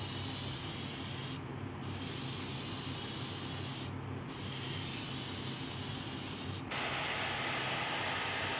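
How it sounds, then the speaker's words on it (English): An airbrush sprays paint onto a large musky fishing bait in loud, continuous hissing bursts, briefly cut off twice and then resuming brighter and stronger near the end. "I'm going to try to darken up the front side of each scale by spraying it at an angle"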